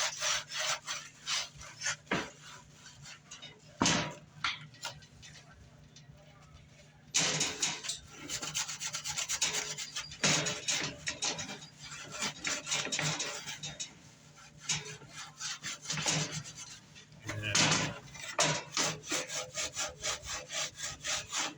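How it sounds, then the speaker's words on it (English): Scrubber rubbing back and forth over a plastic motorcycle tank and fairing, with rough, rasping strokes coming in loud bursts and short pauses, close up. "If this scrubber isn't going to do damage to the plastic too much"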